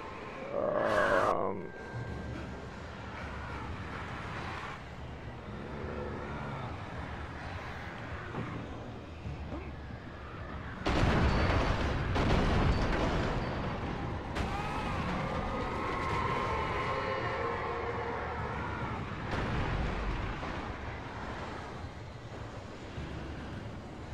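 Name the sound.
roaring tornado in the video game Alan Wake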